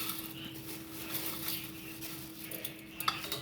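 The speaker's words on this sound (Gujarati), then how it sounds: "તો આપણે આ બધું મિક્સ કરી નાખીએ." Food is stirred and mixed with chutney and salt in a pot, giving a soft, steady scraping and clinking of a utensil against metal at close range, with faint background hiss throughout.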